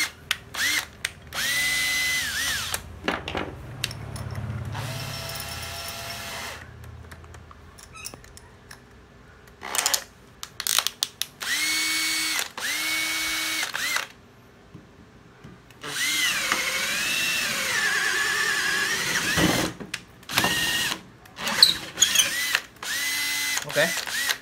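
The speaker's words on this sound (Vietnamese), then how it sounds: "Một con 12V. Khoan 12V." A Makita 12V cordless drill with a 13 mm auto-lock chuck runs in repeated bursts, spinning up and down between speeds with ratcheting clutch clicks, close and loud, separated by brief pauses.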